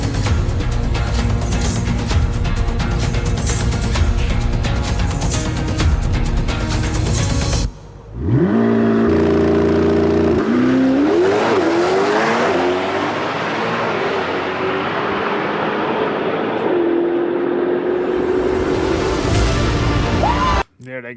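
A factory Corvette ZR1 makes a drag run: after a stretch of loud, steady engine noise, it cuts out briefly, then the engine roars and climbs through rising revs with tire noise, easing into a long high drone. Voices talk at points.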